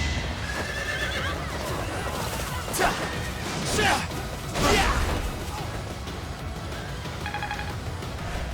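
Several shrill horse whinnies ring out in the Fire Emblem video game, set against hoofbeats and combat clatter. A speaking voice runs underneath, and the middle neighs are the loudest.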